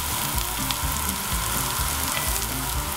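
Chicken gizzards fry and brown in a pan with a dense, continuous close crackle and sizzle that holds steady throughout, no talking.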